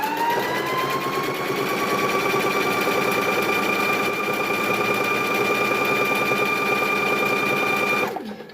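Sewing machine stitching a kitchen hand towel, a loud, steady mechanical whir holding for about eight seconds before stopping abruptly.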